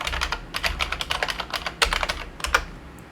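Rapid keystrokes on a computer keyboard while naming a new folder on a Microsoft Server 2025 file server, a loud, close, irregular clatter of clicks with a few sharper taps.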